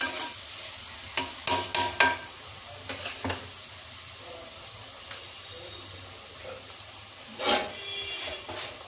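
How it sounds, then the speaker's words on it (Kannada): Paneer fried rice stir-fried in a pan, with a low sizzle under sharp scraping and clanking strokes of a utensil in bursts, then quieter frying. "ಫ್ರೈ ಮಾಡ್ತಾಯಿದ್ದೀನಿ"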